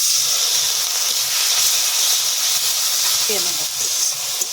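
Water hitting frying spices in a pan, a loud sustained hiss of steam and sizzle throughout, with a brief utensil scrape near the end.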